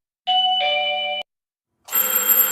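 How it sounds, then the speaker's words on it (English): A two-tone electronic doorbell chimes once, ding then dong, followed after a brief pause by a brighter, buzzier ringing tone. "Sounds like an English doorbell, like a European doorbell."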